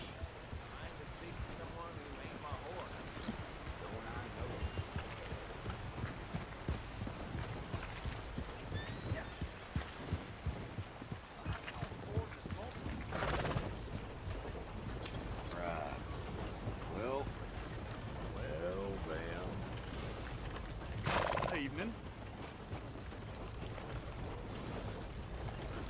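In Red Dead Redemption 2, steady clip-clop of horse hooves continues throughout, with an occasional whinny and a voice speaking over the hoofbeats.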